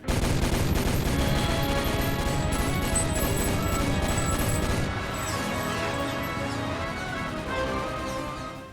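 Heavy anime gunfire from Hellsing, with dense, continuous rapid shots and crashing impacts layered into a loud, unbroken barrage that eases slightly toward the end.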